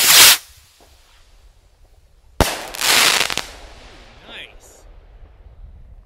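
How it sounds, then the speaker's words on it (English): An Atlantis missile firework rocket ignites outdoors with a sharp, loud pop, then a brief quiet and a second hard crack followed by a roaring hiss that fades away into the distance. "let's go ahead and do this Atlantis missile."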